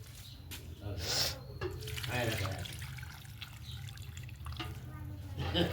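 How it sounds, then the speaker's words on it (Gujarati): Water trickles and splashes as it is poured into potted plants, a steady near pour with someone talking over it. "પાઈ દઉં પાણી બધામાં"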